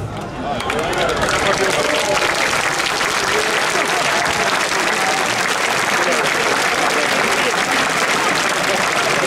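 Arena crowd applauding loudly and steadily for Julien Gouffin during a Camargue bull race in Le Grau-du-Roi, a dense wash of clapping with crowd murmur throughout.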